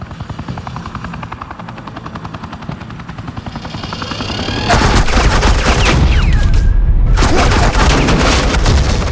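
Suppressing gunfire in the Batman: The Enemy Within video game comes over a loud, steady helicopter rotor thump, growing into a dense, continuous roar of shots and blasts in the second half.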